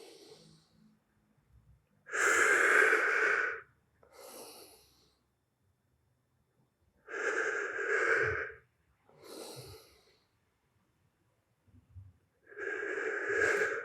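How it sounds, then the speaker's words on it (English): Deep breathing during a jiu-jitsu yoga mobility flow, slow audible inhales through the nose and long exhales, three strong breath cycles with softer sniffs between, close and alone with no talk. "You should be breathing deep in through your nose and out through your mouth or your nose."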